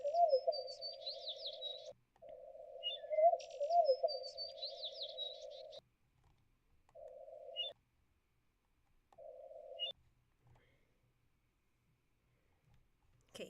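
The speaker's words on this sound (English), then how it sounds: "And then birds." Birds chirp in a Nancy Drew video game, a steady mid tone with bright warbling trills over it, breaking off and returning in shorter bursts, then fading into near silence.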